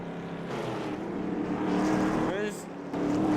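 Racing truck engines drone and whine in a truck racing video game, one engine rising in pitch as it passes, beneath a commentator's steady voice.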